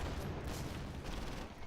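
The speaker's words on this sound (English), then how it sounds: "Oh, they are firing." Dense, continuous gunfire from the Close Combat war strategy game during a battle for Chuguev near Kharkov, a steady loud roar of overlapping shots and bursts with no clear gaps.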